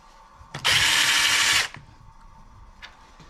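A power drill whirs loudly for about one second, driving screws during Yamaha Banshee motor assembly, preceded by a brief tool click and followed by faint handling noise.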